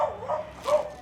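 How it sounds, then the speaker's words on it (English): A dog barks twice in quick succession, mid-distance and moderately loud, with no talk over it. "You can hear the dog barking."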